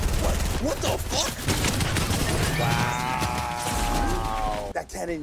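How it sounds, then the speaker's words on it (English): Cannon fire in a video game comes as a dense stream of sharp, rapid bursts and crashes, loud and close, mixed with chaotic game noise and excited voices of players talking over it. "That cannon well fucking killed me."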